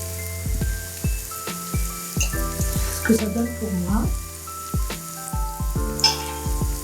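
Onions frying with vegetables and rice in a pan, a steady sizzle and crackle close by, with scattered clinks of a utensil and a person speaking French over it.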